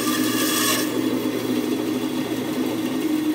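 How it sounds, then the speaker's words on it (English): A bandsaw takes a scraping cut along wood, cleaning up a lap joint for a joinery project. It makes a loud, steady, continuous rasping whine over the running motor, heard up close with no speech. "A scraping cut there."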